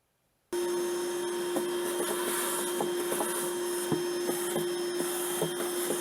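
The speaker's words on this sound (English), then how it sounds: "So I'll give that a vacuum and then I'll install the new battery." A vacuum cleaner switches on after a brief silence and drones steadily while sucking dust and debris from the battery area of a Mercedes Sprinter van, with faint scraping and knocking of the nozzle against surfaces.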